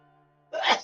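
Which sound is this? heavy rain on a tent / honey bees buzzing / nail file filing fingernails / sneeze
sneeze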